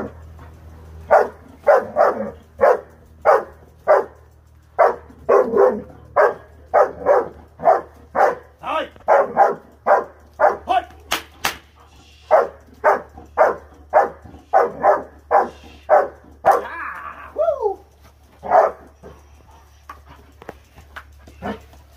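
A young female German shepherd barks steadily in protection training, a long run of loud, evenly spaced barks close by over a low background hum, ending in a few yelps and scuffling.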